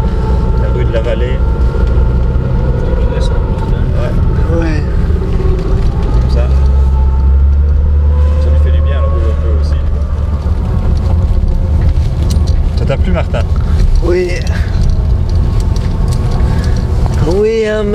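A 1969 Volkswagen Beetle's air-cooled engine drones steadily as the car climbs a steep street, a continuous loud low rumble heard from inside the cabin, with people talking over it.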